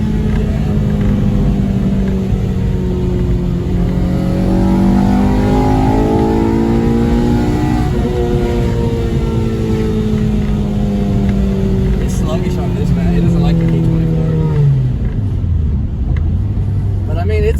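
A Honda Civic DX with a swapped K20Z3 engine and a manual conversion revs loud and close, its pitch sweeping up and down through several pulls before dropping to idle near the end, with talking over it.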